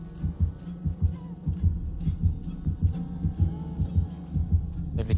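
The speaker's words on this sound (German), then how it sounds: "Achtung, Herzklopfen" A heartbeat warning from the game Dead by Daylight throbs in a low, steady double-thump rhythm, repeating continuously and fairly loud.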